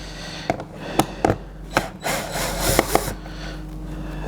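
Phillips screwdriver working door trim screws on a 2013 Subaru Crosstrek, giving a series of short scraping and clicking strokes up close, with some louder rubbing bursts and no talk.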